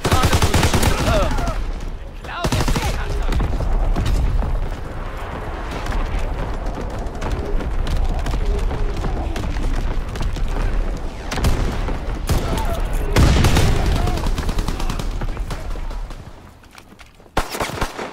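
Call of Duty: WWII artillery barrage pounds away in heavy, rumbling blasts layered with sustained gunfire, loud and dense throughout, with a couple of sharper booms standing out before it thins near the end.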